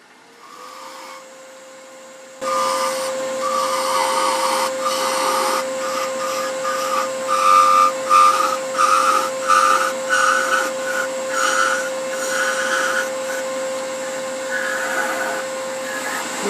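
A lathe turns a wooden pear, with a steady motor whine and a loud, close, rough chattering rasp from the cutting tool that pulses unevenly against the workpiece.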